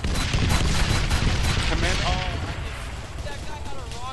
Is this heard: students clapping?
no